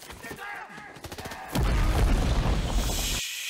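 A loud explosion and battle gunfire from the war film Hacksaw Ridge, with a heavy booming blast rolling in partway through and sustaining over rumbling noise.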